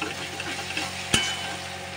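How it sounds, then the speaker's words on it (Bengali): Spice paste frying with onions in hot oil for a Bengali banana-flower curry, a steady close sizzle with one sharp scrape of a spoon partway through, no voices. "এবার এই মশলাটা ভালো করে পেঁয়াজের সঙ্গে ভাজতে হবে।"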